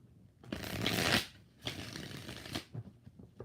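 Tarot cards are shuffled in two bursts, each a dense riffling rush lasting about a second, close and fairly loud, followed by softer handling sounds.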